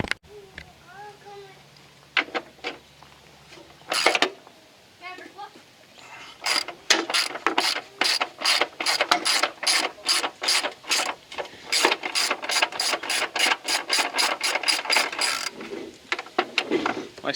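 Hand ratchet working loose PB Blaster-soaked 15mm nuts on the battery tray of a 1997-2001 Jeep Cherokee XJ 4.0, rapid clicking bursts in long rhythmic runs, close and fairly loud, with a few faint bird chirps early on.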